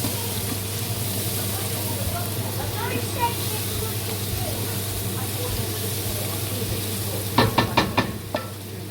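Curry chicken sizzles and fries in a pan over high heat while being stirred, a steady hiss with scraping utensil movements and a few sharp clinks near the end.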